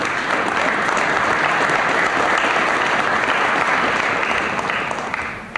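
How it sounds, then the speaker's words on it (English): A large audience claps steadily through a 1982 New Jersey governor's State of the State address, a dense, loud wash of applause that holds evenly throughout and barely tapers at the end. "I'll always wait while you applaud Joe Merlino."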